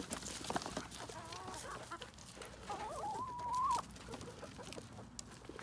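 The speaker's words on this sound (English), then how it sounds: "Look at the chickens. There's so many chickens." Chickens cluck and warble close by on a farm, with one longer rising call standing out near the middle amid scattered softer clucks and faint background noise.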